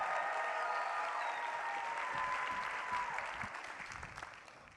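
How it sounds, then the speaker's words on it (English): Steady audience applause at a science comedy night fills the room, loud and continuous before fading toward the end, with no talk over it. "And keep the applause going for our next speaker"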